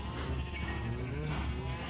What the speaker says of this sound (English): How many cows are out here?